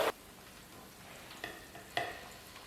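A whole pig head deep-fries in oil over low heat, giving a faint, steady sizzle broken by a few sharp crackles and pops.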